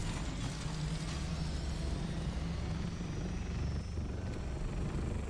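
A flying aircraft in the Dune survival game drones with a steady, loud mechanical whir and low rumble throughout, with no talking over it.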